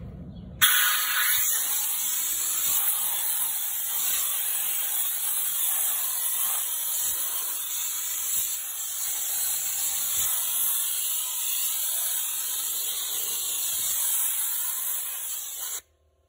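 Compressed air hissing steadily as it blasts grass clippings off the cutting deck of a Craftsman LT2000 riding lawn mower, loud and continuous for about fifteen seconds, then cutting off abruptly.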